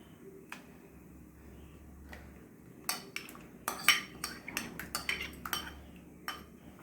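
Ground rice cooking in a pot is stirred with a metal spoon, producing a run of sharp clinks and scrapes against the pot that grow busier midway, over a quiet low hum.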